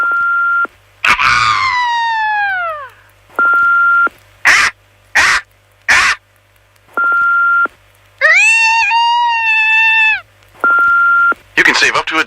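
People's voices imitate a bald eagle's call in a string of short screeching, wavering cries, loud and close, broken up by beeping tones and brief bursts of noise.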